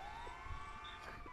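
Police siren from the video game GTA San Andreas, a steady wailing tone held at moderate level through a short stretch, with faint game background noise underneath.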